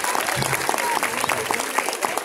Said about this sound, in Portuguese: uma salva de palmas para Cristiane Ponciano